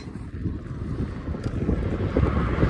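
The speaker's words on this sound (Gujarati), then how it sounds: "બાકી તમે જોઈ લો કેટલો પવન છે" Strong wind buffets the microphone with a heavy, rumbling roar that swells and grows louder toward the end.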